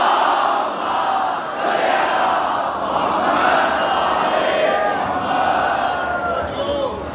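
A large mosque congregation at a Muharram gathering in Lahore chants salawat loudly in unison, a dense roaring mass of voices rising and falling in waves across several seconds.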